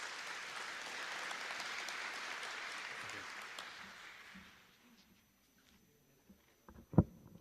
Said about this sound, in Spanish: pedir un fuerte aplauso por el apoyo que nos viene dando